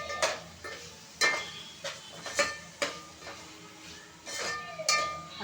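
A spoon stirs ginger-garlic paste in a pan for Telangana-style bagara rice, scraping and clinking against the metal in a string of sharp, irregular strikes over a soft sizzle.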